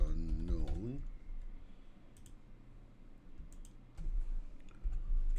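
Keys clatter on a computer keyboard in soft, quick bursts of clicks while someone speaks quietly nearby.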